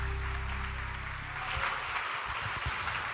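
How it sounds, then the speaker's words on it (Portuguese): A church congregation applauds the Lord with a steady, dense wash of clapping that hisses like rain and holds at an even level through the whole stretch, with a few low thumps near the end. "Aplauda o Senhor."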